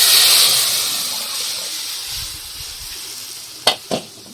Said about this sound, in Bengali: এই পাঁচফোড়নটা দিয়ে দিলাম ডালটা ঢেলে দিলাম